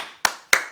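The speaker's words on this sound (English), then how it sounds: "Give him a round of applause." Two crisp, close hand claps about a third of a second apart, each ringing briefly in the room during a children's classroom music session.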